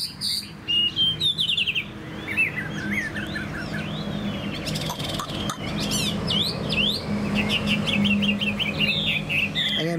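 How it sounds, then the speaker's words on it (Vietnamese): A Chinese hwamei songbird sings a loud, close, varied song of rapid whistled phrases, sweeping trills and chirps that runs continuously with brief pauses. "Anh em nhìn chim hót rất là ok đúng không các bác?"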